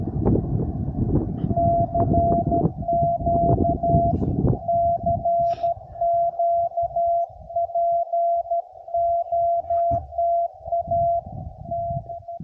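Morse code CW tones on an amateur radio receiver during a field activation, a steady run of short and long beeps over crackling static and bursts of noise.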